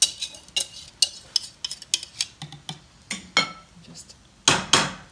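Eggs going into brioche dough and a spatula scraping the bowl, a series of sharp clinks and scrapes against the bowl, irregular and close, ending with two louder knocks.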